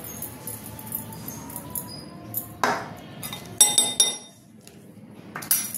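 Chicken bites with soy sauce and pepper are stirred in a bowl: soft scraping and a few sharp clinks of utensil against the bowl, close and intermittent, with quiet pauses between.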